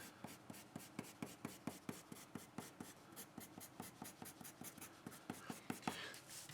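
A Palomino HB graphite pencil writes on paper in a steady run of about two dozen short, evenly spaced strokes. Each stroke is a soft, close scratch with no talk over it.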